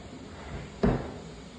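A bottom drawer of a master bedroom wardrobe is pushed, giving one short solid thud near the middle after a quiet room tone, with no speech.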